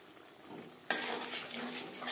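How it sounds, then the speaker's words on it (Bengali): Spice masala being stirred and fried in a pan over low to medium flame: quiet at first, then a sudden rise into steady scraping and soft sizzling, with no talking. "4-5 মিনিট লো টু মিডিয়াম ফ্লেমে মশলা বেশ ভালো করে কষিয়ে নেব"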